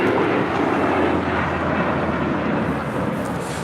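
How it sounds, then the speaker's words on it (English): An Emirates Airbus A380 in Real Madrid livery arrives at Los Angeles airport, a loud, dense, low engine rumble that fades slowly, with no one speaking over it. "Brand new livery on the Emirates A380."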